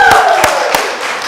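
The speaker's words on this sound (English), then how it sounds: "Let's give everybody a round of applause for being here." A small crowd at a virtual nature center gala claps together, steady and fairly loud, with a few sharper claps standing out across the short burst.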